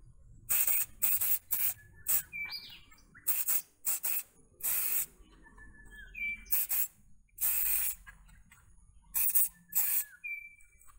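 Honeycomb grille shine spray on a Perodua Bezza car, a series of sharp aerosol hisses in short and longer bursts with quiet gaps and a few faint squeaks between, close up with no talking.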